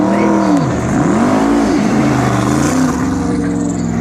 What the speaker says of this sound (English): now he's driving the Michel Leclerc 1978 Alpine Renault, the tiny little 2 litre turbocharged V6